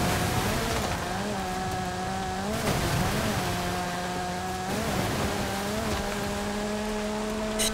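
Porsche racing in Forza Horizon 5 with a rally setup: a steady engine drone rising through the gears, with brief drops at each shift and a constant loud road-noise wash, no talk.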